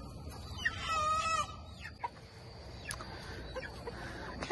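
Chickens clucking in a coop at nightfall, a burst of close clucking and squawks followed by softer scattered clucks and rustling as the flock settles.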